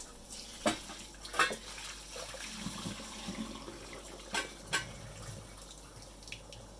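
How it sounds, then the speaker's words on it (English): Water from boiled potatoes pours steadily into a sink with a hollow rushing sound as they are drained, punctuated by a few sharp clanks of a pot, fairly quiet and without talking. "We're going to drain the water."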